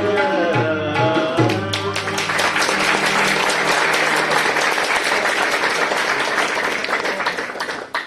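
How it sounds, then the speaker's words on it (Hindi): During a talent hunt show, an audience breaks into steady, full clapping for a singer just as the sung final note fades, then keeps applauding strongly for several seconds before trailing off. "मैंने खड़े होकर ताली बजाई तुम्हारे लिए भाई"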